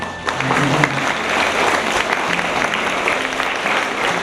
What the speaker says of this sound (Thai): ขอเสียงปรบมือให้กับพี่น้อยที่ทำกัน